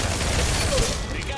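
Sustained automatic gunfire from a held-trigger burst in the mobile shooter Apex Legends Mobile, a dense continuous rattle filling the short stretch at steady loudness.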